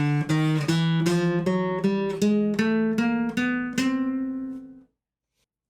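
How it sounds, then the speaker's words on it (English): Guitar plays a chromatic scale, a quick run of about a dozen evenly spaced plucked notes climbing step by step, the last one ringing out before silence. "The chromatic scale sounds like this."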